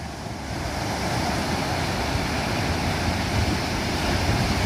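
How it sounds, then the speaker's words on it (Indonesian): Large ocean waves breaking at Holltekamp beach in Jayapura, a continuous loud roar of surf mixed with wind buffeting the microphone, building slightly in strength, with no voices. "ini dia ini ombak di depan kita ini besar-besar"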